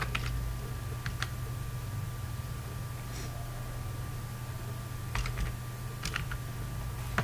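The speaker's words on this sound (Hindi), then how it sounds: "यहाँ पे टाइप कर लें" Faint keys on a computer keyboard are typed into a spreadsheet, with a few sparse clicks over a steady hiss and low electrical hum.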